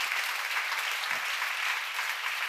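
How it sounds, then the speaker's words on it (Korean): A church congregation applauds during a Korean sermon seminar, a broad, even patter of many hands sustained throughout at moderate, slightly distant volume. "믿으시면 박수라"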